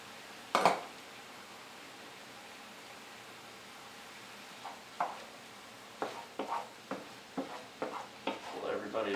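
Shrimp drop into a hot stir-fry pan with rice noodles, setting off a soft continuous sizzle with an early sharp hit and, later, a run of close clacking stirs and scrapes.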